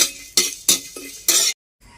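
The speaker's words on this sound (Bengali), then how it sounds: "জিরে, মরিচ, ধনে, শুকনো লঙ্কা ঢেলে দিচ্ছি," Cumin, black pepper, coriander seeds and dried red chillies go into a hot wok (kadai), giving several short, close rattling and clinking bursts of dry spices on metal, separated by brief pauses, with no speech.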